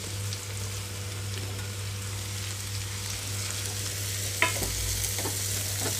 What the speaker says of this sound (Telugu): ఇందులోకి ముందుగా పసుపు యాడ్ చేస్తున్నాను, పసుపుతో పాటుగానే దొండకాయ ముక్కలు.